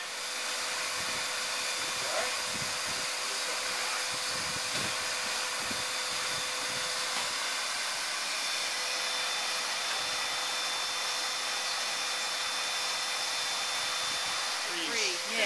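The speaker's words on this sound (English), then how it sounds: "Shut the vacuum off." A vacuum hums steadily during a Dimension One hot tub delivery, producing a constant, fairly loud hiss and whir that lasts the whole stretch, with a few faint thumps and handling noises mixed in.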